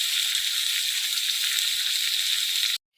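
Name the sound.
ginger and green chili paste sautéing for aloo dum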